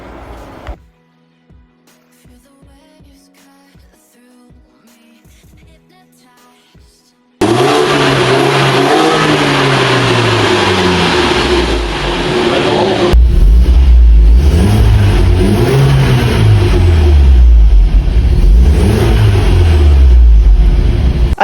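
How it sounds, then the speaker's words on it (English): BMW 1 Series fitted with a legal Remus sports end muffler, revving hard after a quiet start with faint clicks, the engine note climbing and falling loudly and close for the rest of the clip. "It's a legal end muffler from the sports brand Remus, which actually should be a pretty nice sound coming out of this end muffler"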